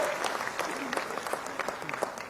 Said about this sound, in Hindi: एक बार जोरदार तालियों से अध्यक्ष जी का स्वागत और अभिनंदन